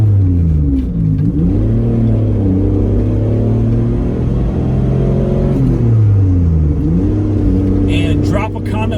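A Mitsubishi 3000 GT sports car drives through twisty roads, its engine droning loud and close with rising and falling pitch as it revs through the bends, and a faint voice comes in near the end.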